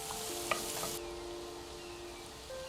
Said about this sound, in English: in with our diced pears, and get these browned for a couple of minutes.